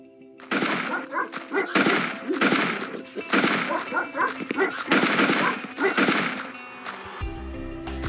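Bursts of rapid gunfire in the video game Red Lake, several loud volleys in quick succession as a dog is killed, with a low hum at the end.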